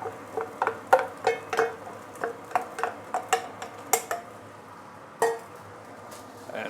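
Egg and pre-cooked white rice are stir-fried in a pan, with a spatula clinking and tapping against the metal in a quick, irregular rhythm of distinct close knocks.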